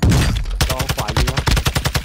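Rapid, loud automatic gunfire in Call of Duty: Warzone 2.0, a dense burst at first then a steady rhythmic string of close shots, standing alone without talk.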